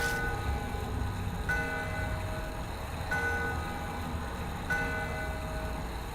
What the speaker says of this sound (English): the sharp sound of a bell breaks the silence.